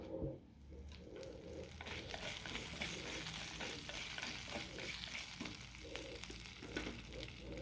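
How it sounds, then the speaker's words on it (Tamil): Chana dal and urad dal frying in oil for radish chutney, a steady close sizzle with spatula stirring scrapes throughout, no talking. "இந்த கடலைப்பருப்பையும் உளுந்தம்பருப்பையும் நம்ம இதோட சேர்த்துக்கலாம் சேர்த்து அது கொஞ்சம் செவக்க முடிய வறுத்துக்கலாம்"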